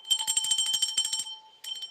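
Bells ring in rapid, bright repeated strikes during a live stream, a quick jangling burst for over a second, a brief pause, then another short ring, with no talking.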